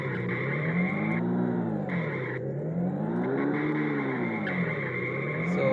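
A simulated car engine in a Unity driving game revs up and down in smooth repeating waves, a steady synthetic drone with faint tyre-skid hiss mixed in and no voices.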